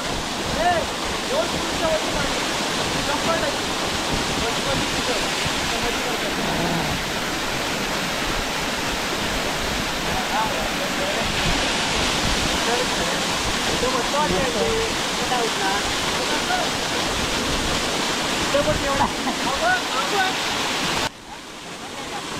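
Devle waterfall at Devrukh in Sangameshwar pours down in a steady, loud roar of rushing water that continues unbroken, with voices faintly mixed into the noise.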